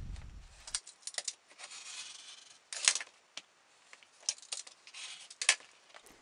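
Scissors cutting a leather scrap square for a moccasin vamp, a series of close, crisp snips and crunches in uneven bursts, with quiet handling noise between cuts.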